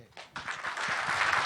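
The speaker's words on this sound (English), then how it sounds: "Ladies and gentlemen, big round of applause for Erwin Yablans, Mustafa Akkad." Audience applause at a Halloween 25th anniversary convention, rising quickly from a few claps into a dense, steady ovation from a large crowd.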